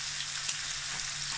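Beef burger patties fry in a pan, giving off a steady, even hiss of sizzling oil at close range with no voices.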